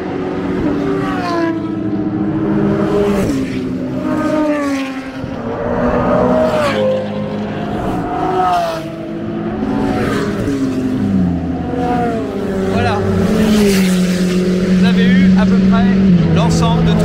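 A ZR1 race car closes in on a Ferrari around the Le Castellet circuit during a track day, loud engine roar rising and falling throughout, with a voice talking over it.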